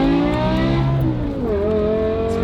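A BMW E60 M5 with its V10 and a valved aftermarket exhaust over stock headers accelerates hard, a loud, continuous engine note climbing in pitch, then dipping briefly at a gear change before rising again.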